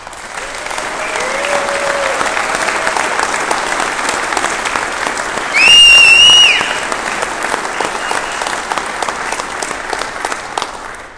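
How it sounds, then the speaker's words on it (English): Sustained audience applause for OK2A, an Oklahoma gun-rights group, fills a hall at an Oklahoma City gathering, steady dense clapping throughout with a brief louder swell midway and a voice faintly audible early on. "give them a round of applause"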